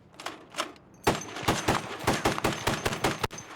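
An aircraft fires six machine guns at once, producing rapid, loud, sharp bursts in a rough rhythm, with a few sparse shots first and then dense repeated fire.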